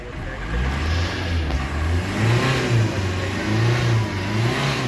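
A car for sale, said to return 23 km per litre, has its engine revved with the bonnet open. Steady mid-pitched engine drone rises and falls through several rev surges, close and loud, with no talk.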